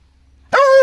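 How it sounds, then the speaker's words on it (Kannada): A single sharp bark from a dog nearby, loud and sudden after near silence, outdoors on a cloudy day. "ಇಲ್ಲಿ ನೋಡಿ ನಾಯಿ"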